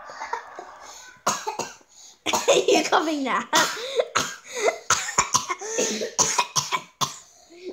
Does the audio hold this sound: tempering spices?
no